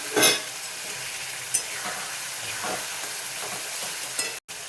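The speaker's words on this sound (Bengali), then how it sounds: "এবার আমি এই পেঁয়াজগুলো দিয়ে দিচ্ছি।" Chopped onions hit a hot pan for a fish curry and fry with a steady, close sizzle, marked by a few sharp crackles and stirring scrapes, with no talking.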